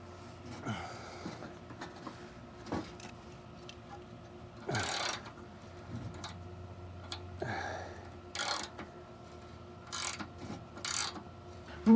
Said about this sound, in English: this ratcheting's horrible, but it's actually pretty good for this weird space I'm working in right now.